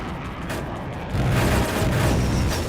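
A 20mm Gatling cannon in Air Conflicts: Vietnam: a steady roaring rush that swells louder and deeper partway through as the firing opens up, continuous to the end.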